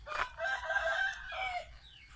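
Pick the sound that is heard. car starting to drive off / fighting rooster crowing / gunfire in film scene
fighting rooster crowing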